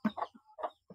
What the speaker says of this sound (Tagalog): Manok namin, oh.